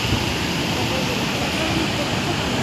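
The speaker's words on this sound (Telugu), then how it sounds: "అది నీళ్ళు పడుతున్నాయి" Water pours from a fish pond outlet, a steady broadband rush of falling water, close and continuous with no break.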